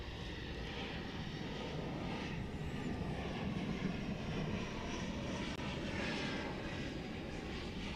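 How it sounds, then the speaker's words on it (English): A United Express Embraer 175 jet arrives at Dallas/Fort Worth airport, making a steady, broad roar of engine noise that holds evenly throughout at a moderate distance, with no talk. "the United Express. Embraer 175 arriving from Houston Intercontinental George Bush Worldwide"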